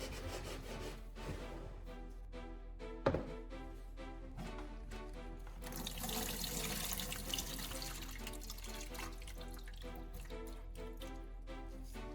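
Running water splashes and rinses steadily over an old battery being cleaned, with small rubbing and knocking sounds, close and fairly quiet, no voices.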